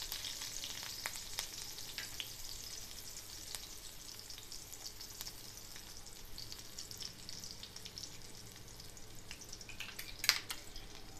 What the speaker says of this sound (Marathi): आम्ही थोडासा चिरलेला कांदा आणि हे तमालपत्र घातलं